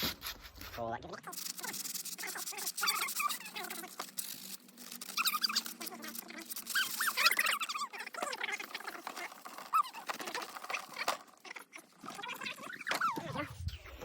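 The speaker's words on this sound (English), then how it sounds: "we're going to sand the plastic, which sounds a bit crazy" Sandpaper rubbing over plastic in a steady, close, scratchy hiss with squeaky strokes throughout, fairly quiet, on homemade Indian clubs being prepared for paint.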